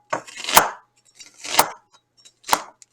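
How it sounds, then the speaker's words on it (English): A knife chops an onion on a cutting board in three crisp, separate bursts of rapid cuts, each about a second apart, close and fairly loud with short pauses between. "I'm going to chop up this onion right here"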